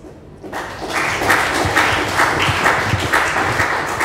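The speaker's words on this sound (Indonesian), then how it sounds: "Terima kasih buat tepuk tangannya." Congregation in a church breaking into applause after a sermon, a dense, sustained wash of clapping from many hands, fairly loud and close, with no talking over it.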